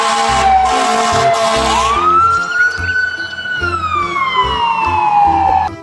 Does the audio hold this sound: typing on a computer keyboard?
no